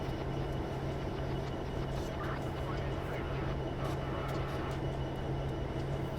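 Freight train rolling in Train Simulator 2020 on Cajon Pass: a constant low rumble and drone of the moving train, steady and moderately loud, under light background talk.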